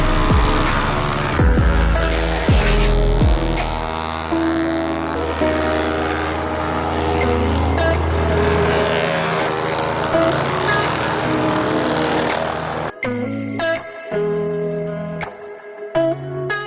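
A vibrating plate compactor pressing polymeric sand into the joints of newly laid walkway pavers, a loud, steady engine drone with rattling vibration that runs continuously, then cuts out near the end, leaving scattered clanks.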